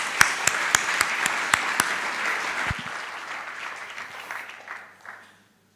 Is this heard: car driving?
no